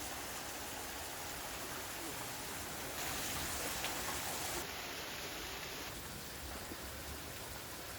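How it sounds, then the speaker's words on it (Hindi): Heavy rain driven by wind pours down in a dense, steady hiss that keeps roughly the same strength throughout, with a faint high tone briefly present partway through and no voices. "हवा चल रहा है और बारिश भी है।"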